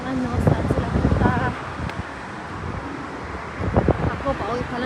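Strong wind buffets the microphone in a constant rushing roar while a person talks intermittently over it.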